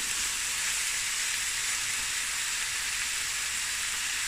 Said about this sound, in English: I'm just going to allow everything to get a nice brown color, more on the darker brown side, without burning it